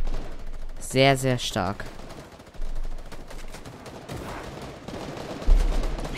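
AK rifle fire in Fortnite, a quick burst of several sharp shots near the start followed by scattered softer game impacts, with someone talking over parts of it.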